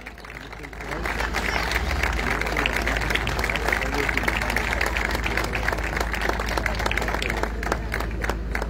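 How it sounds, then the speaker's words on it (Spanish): Crowd at a club event in Argentina applauds the club's board, sustained clapping that swells after the first second and stays loud, over a steady low hum, with some voices under it. "Pido un aplauso para esta comisión directiva."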